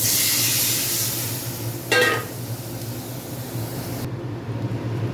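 Water poured into a pan of cumin and ginger frying in oil for a fish curry, a brief loud sizzling burst rising over steady frying hiss, then settling back to a softer sizzle.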